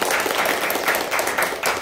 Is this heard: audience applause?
yes